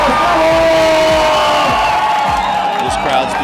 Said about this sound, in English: This crowd's beautiful.